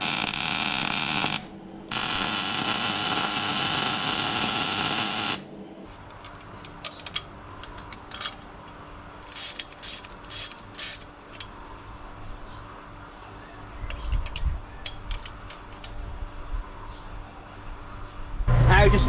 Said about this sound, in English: because I'm about to weld this on